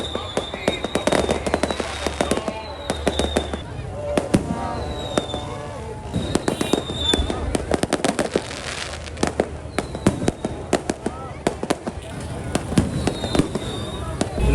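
Fireworks at a Pakistan Independence Day celebration on the night of 13 August: dense, continuous bangs, cracks and crackling bursts, some near and sharp, others distant, over a constant crowd murmur and faint whistles.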